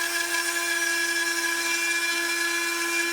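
A Dremel rotary tool cutting a traced pattern in wood held in a multi-vise, giving a steady, high-pitched whine that holds level throughout, close and loud with no talking.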